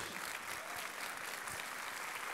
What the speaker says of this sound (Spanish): There's some of the women are clapping over here.